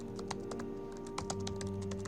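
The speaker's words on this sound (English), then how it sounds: "What the fuck are you Relax. typing?" Quick, uneven clicks of keys on a computer keyboard, tapping in short bursts against a faint steady hum.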